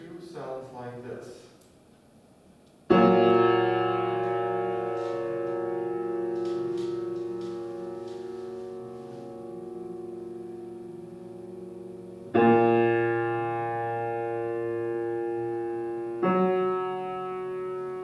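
A consonant musical interval played for an aural skills exercise: a soft noisy lead-in, then sustained harmonic tones entering at about three seconds and re-struck twice later, each ringing on clearly with no talk.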